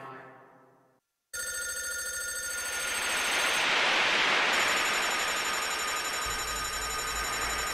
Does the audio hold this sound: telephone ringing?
yes